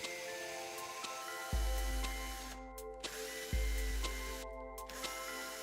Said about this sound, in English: Now let's pre-drill 3 32nd-inch pilot holes.